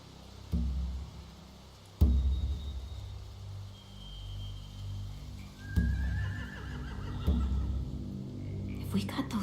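Horses neigh and whinny a few times in The Walking Dead: The Final Season video game, with hoof clops and low rumbling thuds, mixed with faint background activity.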